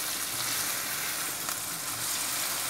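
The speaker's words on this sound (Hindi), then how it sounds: "मिक्स करेंगे, उतनी देर तक कुक करेंगे जब तक लहसुन अदरक के पेस्ट का कच्चापन दूर ना हो जाए।" Chicken frying with garlic ginger paste in a pan, a steady close sizzle and crackle with faint stirring scrapes, continuous throughout without speech.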